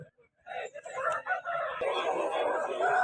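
Roosters at the Sunday rooster market in Vijayawada crow and cluck close by, the calls layered over a steady wash of crowd noise and voices.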